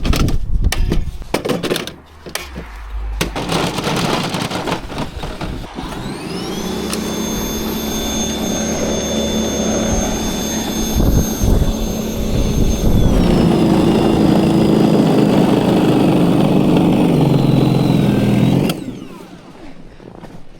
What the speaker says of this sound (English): we're going to switch over to the Litheli snowblower, the cordless 40-volt blower, and I'm going to try to do my driveway